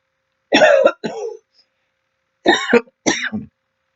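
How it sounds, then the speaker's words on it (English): Two pairs of forced, breathy coughs, each a sharp burst followed by a shorter one, separated by a brief pause. "watch what happens if I fake cough"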